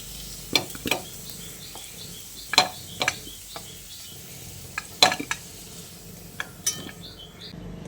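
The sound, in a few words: fried potatoes being stirred and lifted from sizzling oil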